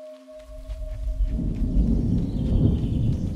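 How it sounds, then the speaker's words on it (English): Deep, rolling thunder from a distant storm in the game Away: The Survival Series swells into a low, continuous rumble after a brief tonal hum, growing slightly louder with no speech over it. "A storm rumbles in the distance"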